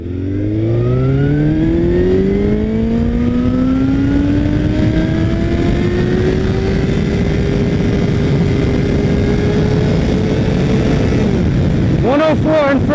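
A Suzuki GSX-R1000 motorcycle accelerates hard in first gear, its engine wail rising loud and close to a sustained high-rev scream before easing off near the end, with a voice underneath.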